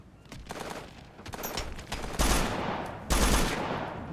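Gunfire in the military shooter Operation Flashpoint: Dragon Rising, a burst of rifle shots and a rolling fusillade, with two loud close volleys standing out over a steady background of distant shooting.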